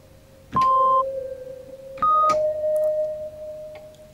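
Two bright tonal hits, a second apart, each leaving a long shimmering tail that rings out and slowly fades in a spacious hall reverb effect in Bitwig Studio.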